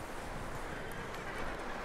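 Horse hooves clop in a quick, steady patter in the Red Dead Redemption 2 video game, heard at moderate distance against a faint, noisy background.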